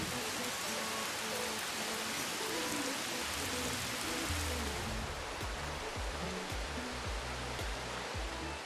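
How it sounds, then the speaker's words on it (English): Heavy monsoon rain in India pours down in a steady, dense hiss of water on surfaces, continuous and even for the whole stretch, with no voices. "When it rains, it really pours."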